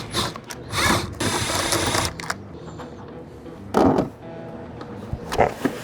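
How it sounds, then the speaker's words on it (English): A ratchet or power driver removes the nuts holding a mirror on a 2020-2023 Chevy Silverado or GMC Sierra truck, with several bursts of close, loud clicking and whirring separated by quieter handling noises. "Remove the four nuts holding in the mirror."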